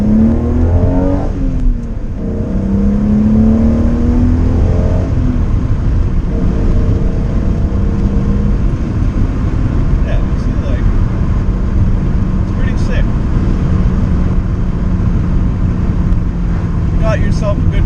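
A BMW E39 528i's engine hums and rises under acceleration while driving, a steady drone with a revving swell early on, heard alongside road and wind noise from inside the car.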